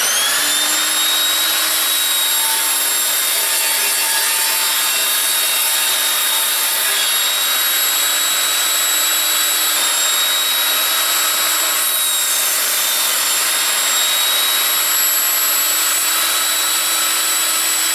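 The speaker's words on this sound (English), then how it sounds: "it'll still demonstrate what this saw can do. Straight through them like butter" An Evolution Rage 5-S saw cuts through wood studded with tacks, giving a steady, loud whine with a grinding rasp that holds evenly throughout at close range, with no talking.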